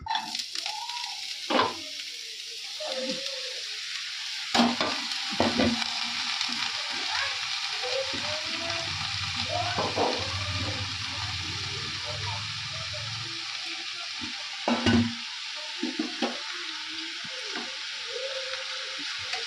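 Vegetables sizzle and fry in a wok with occasional scraping and stirring clatter, a steady hiss running throughout, close by.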